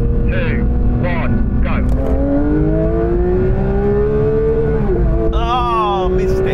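BMW M4 CSL and Porsche 911 GT3 in a rolling drag race from 40 mph in second gear, a loud engine tone climbing steadily in pitch under ongoing talk, then dropping at a gear change.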